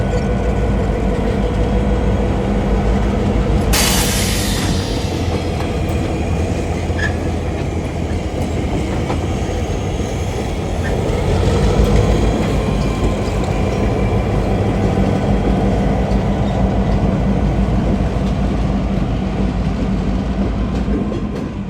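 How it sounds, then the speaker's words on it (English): An Illinois Central painted locomotive leads a train along the CN mainline at Coteau, Quebec, a loud continuous rumble with steady rolling wheel noise and a brief bright burst early on. "super exciting here to see an Illinois Central painted locomotive"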